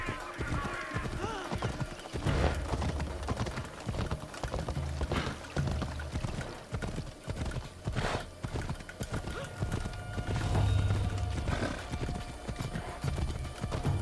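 Horse hooves clip-clop at a steady riding pace in Assassin's Creed Odyssey, repeated rhythmic thuds under game music, with occasional snorts and whinnies mixed in.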